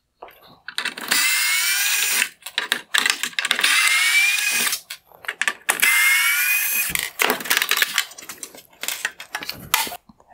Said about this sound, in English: I will begin by removing the T20 screws holding on the lower black bezel.